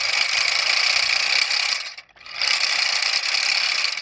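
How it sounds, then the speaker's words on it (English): Hayward Phoenix pool cleaner running normally, its turbine spinning and gears turning in a loud, steady whirring drone that briefly cuts out for a moment midway before resuming at full strength. "you're going to hear the gears turning"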